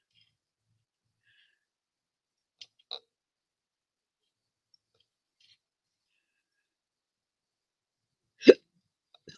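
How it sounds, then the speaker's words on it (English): A single hiccup-like burst, short and fairly loud, comes near the end of a mostly quiet stretch, with only a couple of faint small clicks earlier on. "Oh, hiccup."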